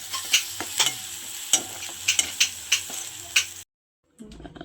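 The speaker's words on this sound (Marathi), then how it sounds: "चला आता मी तिकडे डाळीला फोडणी देते" Tempering for dal: spices crackling and sizzling in hot oil, with a run of sharp, regular utensil clicks and stirring scrapes over a steady frying hiss, then a sudden cutoff to near silence and a faint return.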